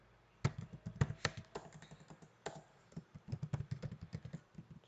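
Rapid, uneven keystrokes clatter on a computer keyboard while a JavaScript program is written, close and crisp, with a brief pause before the typing resumes in quick bursts.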